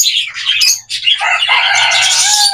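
Pet birds, including albino and heavy pied budgie-type birds, chirping and squawking up close in rapid overlapping bursts, loud and busy with a faint low hum beneath.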